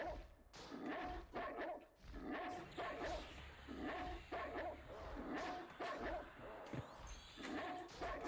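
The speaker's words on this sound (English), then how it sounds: "I only asked if you were home because I thought I heard the dog bark" A dog barks repeatedly in short, fairly loud yips and bow-wows spread irregularly across the stretch, with some whimpering between barks and faint background sounds.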